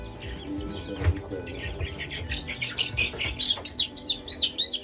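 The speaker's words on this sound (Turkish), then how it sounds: "Bir tane cüce koşun tavuk bu." Dwarf Cochin chickens clucking and murmuring nearby, with soft rustling and higher chirpy calls growing more frequent toward the end.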